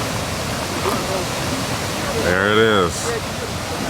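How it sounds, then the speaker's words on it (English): A waterfall near a crater in Hawaii gives a continuous broadband rush that fills the background. A person speaks briefly over it partway through. "I love the sounds coming from the waterfall."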